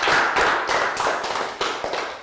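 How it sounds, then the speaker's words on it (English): Children in a Year 3 maths lesson clap in a round of applause, a dense spatter of quick hand claps at steady loudness with a few louder bursts toward the end. "Give yourselves a round of applause."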